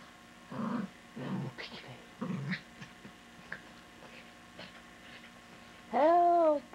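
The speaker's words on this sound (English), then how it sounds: "You're going to drive Mom up the wall with the barking." A pet dog barks in short bursts indoors, several spaced barks with a higher whining growl near the end, while someone talks between them.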